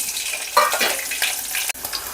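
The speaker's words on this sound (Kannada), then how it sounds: "ಈಗ ನಾನು ಮೆಣಸಿನ್ಕಾಯಿ ಹಾಕೋತಾ ಇದ್ದೀನಿ." Green chillies dropped into hot peanut oil in a pan for a breakfast dish, a loud burst of crackling sizzle that continues steadily, then briefly cuts out before resuming.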